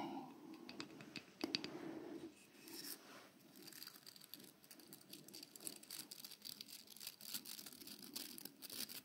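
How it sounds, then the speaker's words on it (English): Steady scratchy brushing strokes, close up and fairly quiet, repeating in an uneven rhythm with a few light clicks, no voices. "First, a little bit of brushing."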